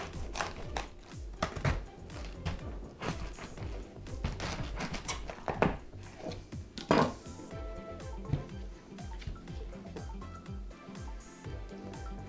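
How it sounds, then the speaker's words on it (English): A knife chopping cabbage on a cutting board, with a steady run of close, crisp taps and thuds repeating through the whole stretch, rhythm slightly uneven, no talking. "I'm going to chop up my cabbage."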